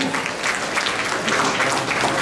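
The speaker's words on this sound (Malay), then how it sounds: "Kita beri tepukan kebangsaan ni." Audience applause at a school event, a brief, dense burst of clapping at moderate level that fills the moment with no voices standing out.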